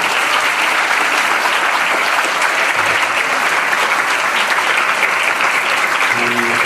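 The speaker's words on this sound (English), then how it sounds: "a big round of applause for this group" Sustained applause from a lecture audience at the close of a science talk, steady dense clapping throughout with no pauses, fairly close and loud.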